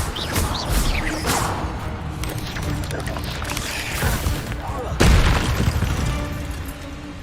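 In Hogwarts Legacy, the Levioso spell goes off amid a dense game soundscape of booming magical bursts. A sharp, heavy impact lands near the end.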